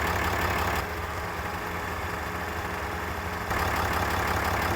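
A 6.7L diesel truck engine idles steadily after a jump start, a loud continuous low rumble that dips slightly in the middle and swells again near the end, with no talking.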